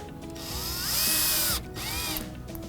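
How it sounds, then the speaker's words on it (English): A power drill driving wood screws to secure a belt clip on a raised garden bed, a loud close whir rising and stopping, then a second shorter run. "Secure the belt clip using 2 of the provided wood screws."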